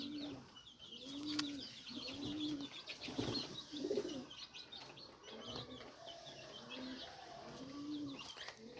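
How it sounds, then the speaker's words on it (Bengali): Captive high-flyer pigeons coo in soft, repeated low-pitched phrases, with one bird answering another at close range. A busy chorus of other birds chirps steadily behind them, and no one speaks. "এটা হচ্ছে মাদি কবুতর"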